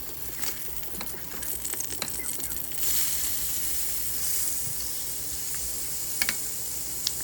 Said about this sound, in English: I'm gonna brown the meat on all sides